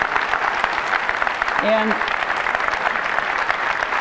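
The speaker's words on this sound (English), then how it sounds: "I'd like to give him a round of applause" An audience at a product launch breaks into sustained applause, a dense, even wash of clapping filling the space, with a brief word spoken over it.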